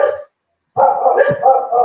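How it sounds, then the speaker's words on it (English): A dog gives a short bark, then after a pause a longer run of bark-like yaps close by. "Is anyone looking after that dog, by the way?"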